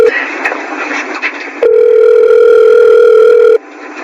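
A cellphone call to a mother rings out: a steady electronic ringback tone sounds at close range, loud and continuous for about two seconds, set between stretches of softer background tone.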